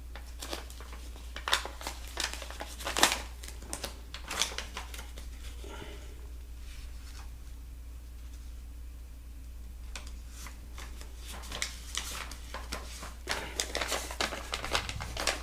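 Tape is pulled and pressed onto the corner of a Tyvek tarp, producing close, intermittent crinkling, crackling and tearing bursts over a low steady hum.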